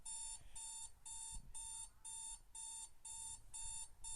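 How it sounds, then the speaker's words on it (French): An alarm clock rings inside the video game Start Survey as a rapid electronic beeping that repeats in regular bursts of about the same length, fairly quiet and steady, with no voices. "Ta gueule, putain de réveil de merde."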